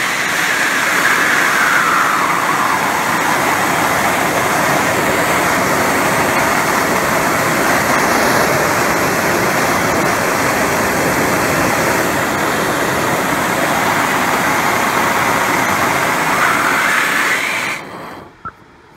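A Turbo Torch burns steadily at low setting on stainless steel, a loud, close, continuous roaring hiss of flame that holds for most of the stretch before cutting off abruptly near the end.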